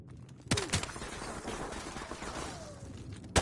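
AK rifle fire in a competitive first-person shooter, with a few sharp close shots standing out near the start and a final one at the end over a busy in-game background.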